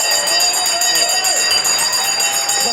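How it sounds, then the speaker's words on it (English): Opening bell of the New York Stock Exchange ringing continuously with steady metallic ringing tones, loud and sustained over a noisy trading-floor background, with some talk mixed in. "Let's get the opening bell here and the CNBC."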